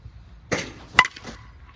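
A swing of a 2026 Green Zen USSSA baseball bat ends in one sharp, ringing metallic crack as it meets the ball, heard up close against a quiet background.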